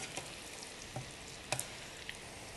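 Tofu and tempeh frying quietly in a pan, a soft continuous sizzle broken by a few faint scraping clicks as the pieces are stirred.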